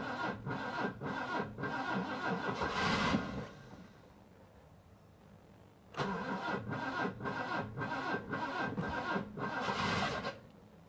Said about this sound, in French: J'oublie qu'elle a couché dehors sous le carport et qu'elle a besoin du starter.